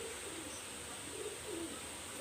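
Pet pigeon at a breeder's loft, faint low cooing in soft repeated rounds over a quiet steady background hiss, with no voices.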